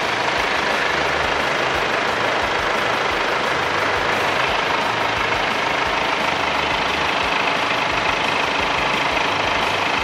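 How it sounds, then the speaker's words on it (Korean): A BMW X1 E84 xDrive 20d diesel engine idles with the engine bay open, giving a steady, even rumble with a faint clatter that holds unchanged for the whole stretch and has no talk over it. "엔진 소리 일정하고 좋습니다."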